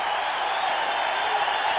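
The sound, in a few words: football stadium crowd cheering in San Antonio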